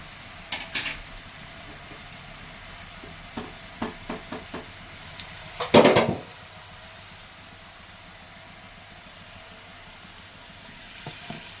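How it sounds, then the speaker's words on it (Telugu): Mud crab pieces fry in a pan with salt for a village-style crab curry, giving a soft steady sizzle. A few light stirring scrapes come early, then one louder clatter, and the pan settles back to a low hiss. "బ్రౌన్ కలర్ వచ్చే విధంగా ఫ్రై చేసుకోవాలి"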